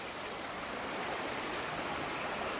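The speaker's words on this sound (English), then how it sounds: "Just a river or a creek." A river or creek in a state forest, where the track's bridge is gone, rushes steadily. It makes an even, continuous broadband hiss of flowing water that is close and fairly loud, with no voices.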